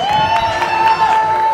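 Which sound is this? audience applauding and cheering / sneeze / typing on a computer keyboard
audience applauding and cheering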